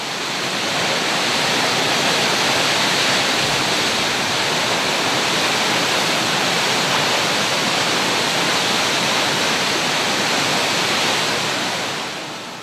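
A 133-metre waterfall in Japan roars as a steady, dense, full-band rush of falling water, loud and unbroken throughout with no voices.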